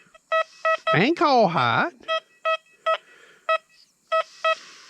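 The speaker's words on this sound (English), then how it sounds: "you hear more iron tone in the deep high conductor on this scenario here than you do the fast" Deus 2 metal detector sounds a train of short, sharp iron-tone beeps at close range, spaced roughly evenly across the moment, with someone speaking briefly over the early part.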